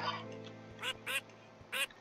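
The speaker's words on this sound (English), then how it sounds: "Pet a duck." Three short nasal quacks come from a duck in Minecraft, spaced about half a second apart over soft game music.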